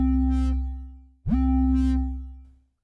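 Two sustained notes from a synthesizer sawtooth lead thickened with chorus and shaped by EQ, joined by a quick upward pitch glide, bright and loud with no other sounds, ending in a short fade.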